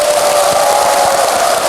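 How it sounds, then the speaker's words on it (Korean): An audience at Jeongbeopsa temple, the Masan branch of Tongdosa, claps steadily in a dense, even wash of applause that holds at the same level from start to end, close and fairly loud. "끊임없는 박수에 제가 너무나 감격이 벅차오르네요"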